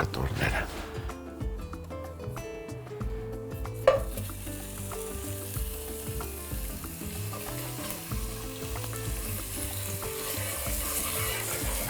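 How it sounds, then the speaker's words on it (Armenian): Meat pieces fry in melted butter in a pot with a continuous hiss. A sharp clatter rises partway through, then the sizzle grows brighter and louder, and a voice talks over it throughout. "Եվ տապակում ենք մսակտորները"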